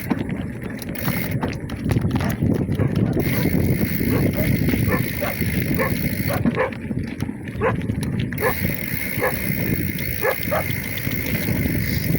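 Dogs bark at a passing bicycle on a rough, potholed rural farm road, with repeated barks at a moderate distance over steady wind rumble and road noise.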